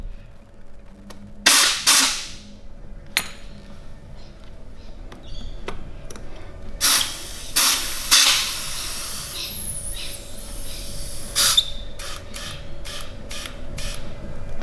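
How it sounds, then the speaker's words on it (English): An air hose hisses in short bursts while inflating the small tyre of an electric drift trike, several sharp blasts of air close by, separated by quieter pauses and faint clicks. "So you just come over with your air hose, pop it on"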